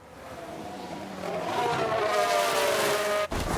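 A Formula 1 race car in the F1 Manager 22 game, set in a 1992 season, runs off the track, its engine tone rising and roaring with a skidding whine before cutting off abruptly near the end.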